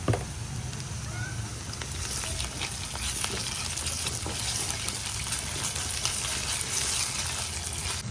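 Onions browning in hot oil with ginger garlic paste added for a crab masala, a steady dense sizzle running close and continuous throughout with faint scraping touches.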